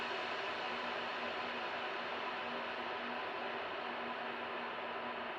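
A long, sustained reverb tail from a reverb plugin set to a very long decay, a steady hissing wash with faint lingering tones, unchanging and with no dry sound beneath it.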